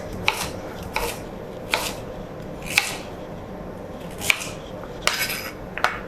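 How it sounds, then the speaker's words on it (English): Sweet potatoes are roughly chopped with a knife on a board in a home kitchen. About eight crisp, close knocks land at an uneven pace over a quiet room hiss, with no talking. "You don't have to be too perfect with this chopping"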